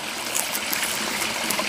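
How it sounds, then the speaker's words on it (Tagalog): Spring water bubbling up from the ground in a forest makes a steady, close, continuous trickling and gurgling wash, brief and unbroken, with no talk over it. "May bukal sa ilalim."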